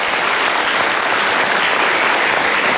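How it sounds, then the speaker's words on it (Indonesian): Loud, dense applause from a studio audience of high school students at a televised talk show, continuous and evenly sustained throughout with no speech over it. "Boleh tepuk tangan buat semua yang sudah hadir."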